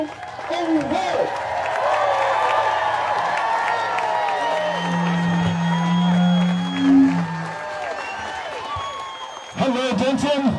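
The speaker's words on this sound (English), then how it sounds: "So everybody stand up and clap your hands for our guest of honor" Audience at a Thanksgiving event standing and applauding a guest of honor, a broad steady wash of clapping and crowd noise with scattered whoops, lasting several seconds before voices cut back in near the end.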